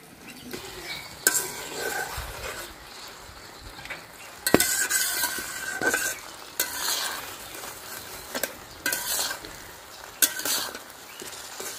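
Green chillies sauté in oil for a sweet, sour and spicy pickle, a soft background sizzle broken by repeated scraping and clinks of a metal spatula against the pan at an unhurried pace.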